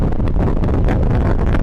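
Gusty wind buffets the microphone of someone riding a motorbike on a hot day, a loud, close, rumbling low-frequency roar that fills the whole moment.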